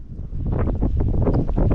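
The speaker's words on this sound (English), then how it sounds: "Little windy out here on the ICW." Strong wind blowing over the Intracoastal Waterway, a steady, loud low rumble buffeting the microphone outdoors on the water, with no talk.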